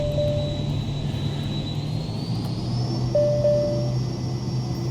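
A Cirrus Vision Jet G2 spooling up for takeoff on an unplowed snowy runway at Fairbanks, Alaska in Microsoft Flight Simulator 2020, a loud steady jet whine rising in pitch, with brief cockpit alert tones, no speech.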